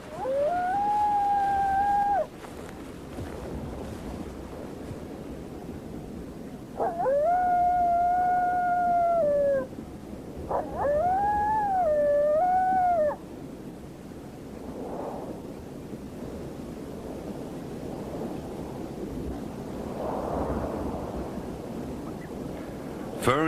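Coyote pups howling near the Colorado River: several drawn-out, wavering howls in separate bouts, some voices overlapping, clear and fairly close over a constant hiss of wind or water.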